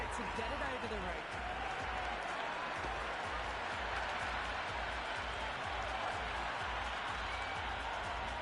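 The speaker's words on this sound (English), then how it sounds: "There's a buzz, a real buzz coming from the stands." A stadium crowd at a T20 warm-up match between India and South Africa in Mumbai, in the video game Cricket 26, sends up a continuous, distant roar and buzz from the stands, steady throughout and fairly faint.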